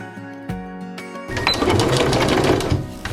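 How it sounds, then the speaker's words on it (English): A sewing machine stitches a seam on a memory piece: a few short start-and-stop bursts for back stitching, then a steady close, loud whirring run that lasts to the end. "We're going to stitch right there, starting and back stitching, and we're going to stitch to here and back stitch on all 4 sides"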